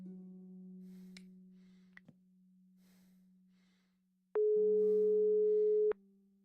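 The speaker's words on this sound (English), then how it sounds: "It was my phone, mankind's most treasured possession." A phone rings in the Broken Sword 5: The Serpent's Curse video game as steady electronic tones with soft clicks, then a louder, brighter tone burst near the end.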